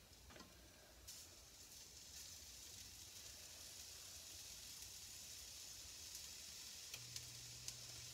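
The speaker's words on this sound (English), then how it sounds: "It's sizzling." Bacon sizzles steadily in a pan, a constant bright crackling hiss with a few sharper pops near the end, no voices.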